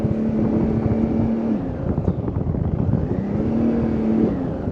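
A Sea-Doo Fish Pro Trophy jet ski engine runs under applied throttle, a loud continuous droning roar with a tone that holds, shifts briefly and returns, heard close with some wind buffeting and no talking.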